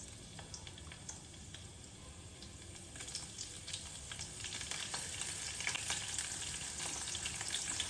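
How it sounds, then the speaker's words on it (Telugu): Green chillies frying in hot oil for a fenugreek dish, giving a faint, steady sizzle with scattered crackles and pops that grow slightly louder and busier toward the end, with no voices. "ఈ మిర్చీలు వేసేద్దాం"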